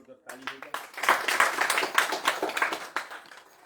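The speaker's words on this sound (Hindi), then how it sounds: "चलिए मंडली जोरदार ताली हो जाए।" Audience applause at a Hanuman Katha gathering in Papatoetoe, New Zealand: dense, steady hand clapping from a crowd starts sharply after a brief pause and continues loud and sustained to the end.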